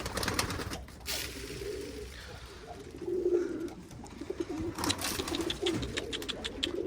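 Homing pigeons flown out and returning to their loft coo in soft low rolls at a moderate distance, with brief rustles and outdoor background around them and no voices.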